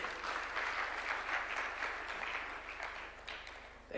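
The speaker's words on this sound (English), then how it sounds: "A round of applause for Mzee." Applause from an audience at a Kenyan government event, a steady, fairly distant round of clapping that tapers slightly near the end, with no talk over it.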